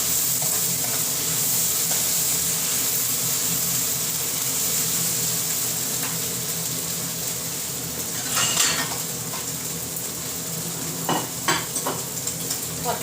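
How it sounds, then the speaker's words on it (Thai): Eggs frying in a pan with a constant bright sizzle, joined by scraping utensil stirs and clinks of metal against the pan, busier near the end; no talking. "ทอดไข่แบบง่ายๆนะคะ"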